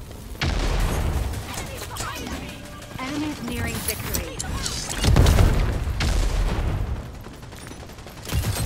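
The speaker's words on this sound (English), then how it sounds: "How many grenades were there?" Grenade explosions in Rogue Company, several heavy booming blasts with bursts of gunfire, loud and close, the strongest around the middle, while a person talks and exclaims over them.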